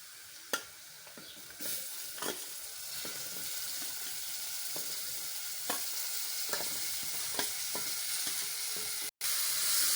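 Cauliflower cooking in a pan with turmeric, a steady close sizzle under repeated scraping and stirring knocks, with no talking.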